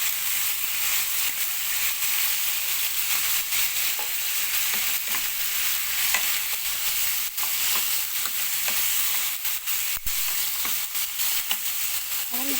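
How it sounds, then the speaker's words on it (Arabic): Meat sizzles steadily in a pan seasoned with black pepper, a continuous close hiss of frying with occasional scraping and stirring clicks and no voices. "اللحمة بتاعتنا ابتدت تتشوح كده بقى وتاخد اللون اللي احنا عايزينه"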